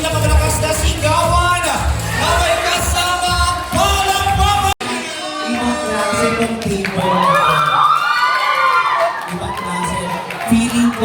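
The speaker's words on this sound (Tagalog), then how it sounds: "Parinig naman ako ng isang pinakamalakas na sigawan na may kasama ang Palang Mama" Wedding reception guests shout and cheer loudly as a crowd, a sustained roar of many voices with whoops and high children's shouts, briefly cut off midway before surging again.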